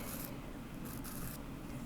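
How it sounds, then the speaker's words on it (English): Sanding stick rubbing back and forth on a fine silver metal clay pendant, a soft, quiet, close rasping scratch in short strokes, no voices. "I'm going to flatten that out a little bit with my sanding stick to give myself a nice flat surface to be drilling into"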